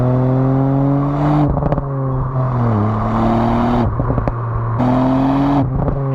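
A 2019 Ford Fiesta ST engine revving hard toward 6,000 RPM, loud rising tones repeatedly cut by sharp crackling pops and bangs between pulls, with no talk.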